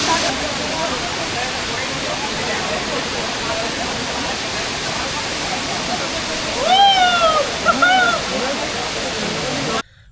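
Bamni Falls in Purulia during the monsoon roars as a loud, constant rush of falling water, with a voice briefly speaking over it near the end.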